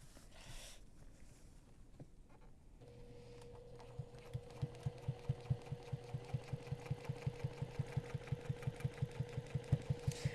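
A sewing machine doing ruler quilting with a presser foot starts up after a few quiet seconds and settles into a fast, steady, even stitching rhythm. It sounds close and moderately loud, with soft handling noises at first.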